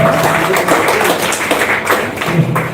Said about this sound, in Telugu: That clapping also shows how much.